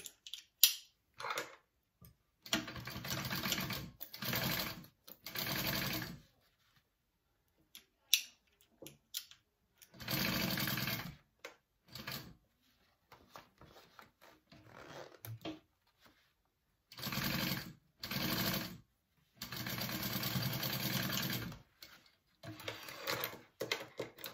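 A sewing machine top-stitches a seam on a crossbody wallet in several short, loud bursts of rapid whirring, broken by silent gaps and sharp clicks from fabric and presser handling, close-up with no talking.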